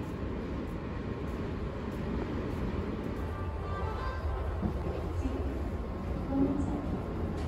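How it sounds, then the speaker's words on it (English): A low, steady rumble of an express train rolling into Noryangjin Station on Korail Line 1 fills the platform, with a broad noisy wash and a faint announcement voice underneath. "The express train bound for Yongsan is now approaching."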